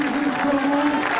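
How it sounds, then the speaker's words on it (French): Spectators at the Paris-Nice 2002 cycling race on the Col d'Eze applauding cyclist Laurent Jalabert, steady clapping heard under a commentator's voice. "Vous voyez Laurent qui est applaudi"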